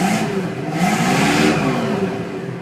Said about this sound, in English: Very good running V8.